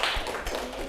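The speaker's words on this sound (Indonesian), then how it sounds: "Tepuk tangan untuk kelompok 2." Students in a classroom give a short round of clapping for a group that has just presented, a brief scattered patter of hands.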